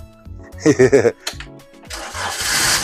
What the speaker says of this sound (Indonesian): Sekarang kita coba start mobil.